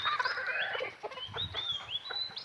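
A pure white Kelso rooster clucks in a run of short, fairly faint calls, with a higher squawk near the end, in a quiet rural setting.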